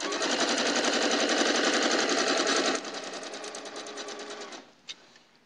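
A sewing machine stitches log cabin quilt seams in a fast, even run of needle strokes, loud at first, then softer and steady before stopping, followed by a single light knock.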